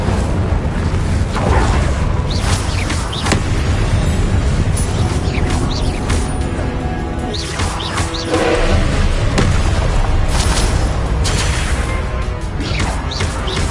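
Incendio fire spells blast in Hogwarts Legacy, with loud booming bursts repeating amid dense, continuous combat noise.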